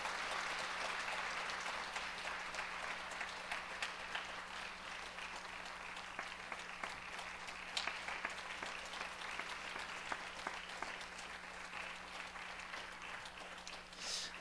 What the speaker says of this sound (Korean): 우리 한번 박수로 한번 격려해 드리겠습니다